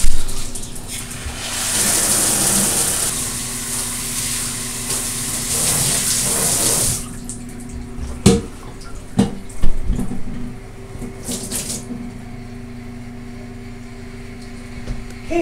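Tap water runs steadily while dyed hair is rinsed, a broad hiss that stops partway through, followed by scattered knocks and drips in a quiet room.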